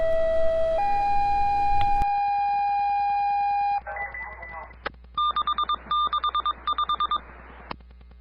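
Radio dispatch alert tones during severe weather coverage in North Texas: a run of long steady pitched tones shifting in pitch, then short beeps and a rapid pulsing pattern of repeated two-tone bursts, loud and clear with no voices.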